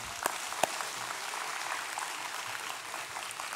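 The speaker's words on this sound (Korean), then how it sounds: "영광의 박수를 하나님께 드리겠습니다." Church congregation applauding during a Sunday worship service, a soft, even patter of many hands heard from a distance, with a couple of sharper claps near the start and no voices on top.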